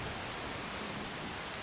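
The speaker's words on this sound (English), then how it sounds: "I really wish it would stop raining, but I don't mind how atmospheric and gloomy it is." Rain falls steadily in the video game Skyrim as a soft, even, continuous hiss of drops with no other sounds.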